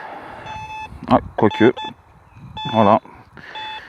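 Steady electronic beeping tones from a metal detector pulse in short bursts, interrupted by someone speaking French in between; the beeps are moderately loud and close.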